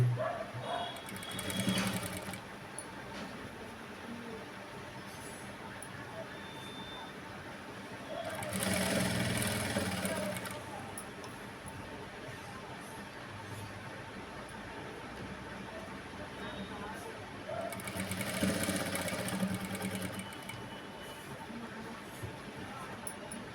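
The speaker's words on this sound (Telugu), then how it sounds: "నేను ఈ పింక్ కలర్ క్లాత్ మీద అయితే స్టిచ్చింగ్ చేస్తున్నాను" A sewing machine stitches a border on pink cloth for a work blouse in three loud whirring bursts of about two seconds each, separated by quieter stretches of low background hum.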